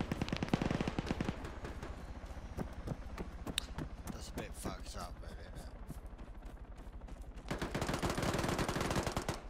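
SR-1 Vektor pistol gunfire in the video game ARMA 3 cracks out in rapid runs of sharp shots, with dense bursts at the start and again near the end and sparser shots in between, under a voice talking.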